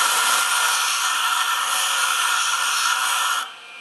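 A 3M radial brush in 400 grit spins on a Jooltool X system, giving a steady, loud broadband whir with a smooth hiss that holds evenly for several seconds before the pitch drops and the sound fades as it slows.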